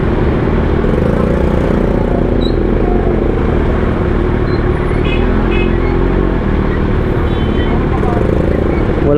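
A Kawasaki ZX6R inline-four motorcycle rides through traffic in Tondo, giving a steady, loud engine and road drone with wind roar that continues throughout.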